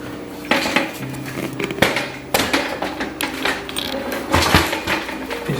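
Metallic clanks, clicks and rattles come as a stubborn handle on a raised-frame patio door with add-on blinds is worked, irregular knocks of varying loudness close by.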